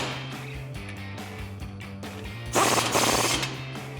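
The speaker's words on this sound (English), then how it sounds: "with an 18mm socket, tighten it down" A ratchet with an 18mm socket tightening nuts on a strut for a Ford F150 billet strut spacer leveling kit makes an even run of mechanical clicks, then a louder rattling burst near the end.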